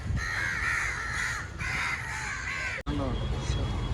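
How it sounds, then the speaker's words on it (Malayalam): Several crows cawing in harsh, repeated calls while eating peanuts at the Pondicherry Sunday market, loud and close, with a busy outdoor background. "കുറേ കാക്കകൾ കപ്പലണ്ടി തിന്നുന്നുണ്ട്"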